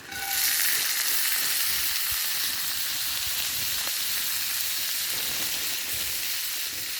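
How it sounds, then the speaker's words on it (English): Frozen corn sizzles in a pan over an open campfire, a steady, loud frying hiss with occasional crackles that runs unbroken for the whole stretch with no talking. "It's always a nice sound to hear, isn't it, legends? Sizzle, sizzle."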